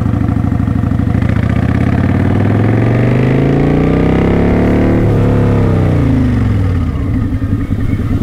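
A motorcycle rides slowly in first gear, its engine loud and near, pitch rising and falling with the throttle in a steady mechanical drone.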